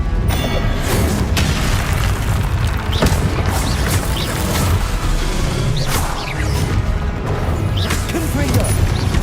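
Repeated fiery blasting bursts from the Confringo spell in Hogwarts Legacy, loud and continuous over dense game noise, with a voice repeatedly speaking over the effects.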